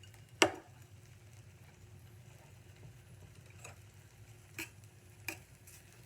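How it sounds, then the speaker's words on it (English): Shallots fry in a pan with a faint, steady sizzle, broken by a few quiet clicks and utensil taps in a calm kitchen. "You're hearing the sizzle, you start to smell them cooking, just like that."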